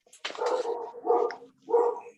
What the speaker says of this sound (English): I'm at home and my dog is barking.